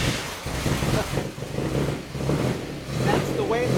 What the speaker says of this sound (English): one of the very rare 1954s, which came with 6-cylinder engines that Lewis admits had no power and sounded like a motorboat